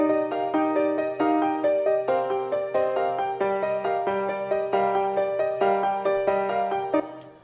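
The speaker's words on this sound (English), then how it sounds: "So the chorus sounds like this in the original song." The chorus of the AI-generated song plays as a steady run of bright, repeated piano-like notes and chords with no bass underneath, clear and continuous before cutting off near the end.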